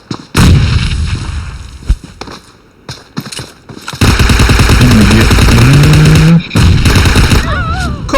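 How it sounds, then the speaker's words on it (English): Video game gunfire in a team deathmatch: loud, close bursts of shots with short gaps, building to dense sustained rapid firing near the middle and continuing in heavy bursts to the end. "Now I got someone else shooting at me."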